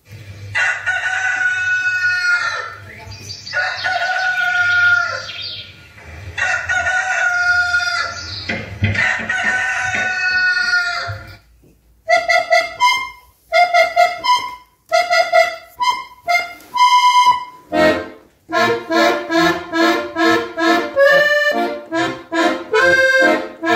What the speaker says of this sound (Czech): na akordeon mě učí Lenka Lipenská a zahraje vám Kohoutí polku